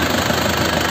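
A 2006 Suzuki Grand Vitara manual turbo engine idles in the open engine bay, a steady, loud, even rumble with constant vibration and no pauses.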